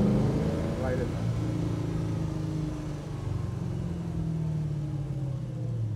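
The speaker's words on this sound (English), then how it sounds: "You just can't get enough of this engine sound." A 1966 Pontiac GTO's engine rumbles steadily at close range with a deep low throb and a brief rev near the start, while people talk over it.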